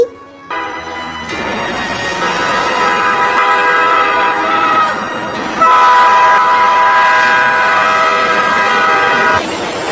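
A train rumbles loudly nearby while its horn blares in long sustained tones, rising in strength for the last few seconds.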